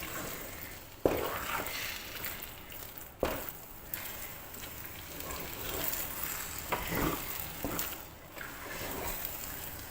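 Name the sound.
stirring urad dal kali dough with sesame oil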